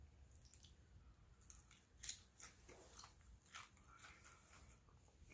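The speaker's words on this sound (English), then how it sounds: "Y'all hear that crunch from the outside? That's that fried chicken crunch right there." Crisp crunching bites into a piece of buttermilk fried chicken, close and fairly quiet, a handful of sharp crackly bursts spread across a few seconds with soft chewing between.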